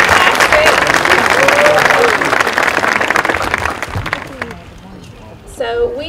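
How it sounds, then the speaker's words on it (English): Audience applause at the opening ceremony of the 2015 Trenton Teapot Festival, a loud sustained wash of clapping that fades toward the end as a voice begins speaking. "let's give Katie Marie Greer another round of applause"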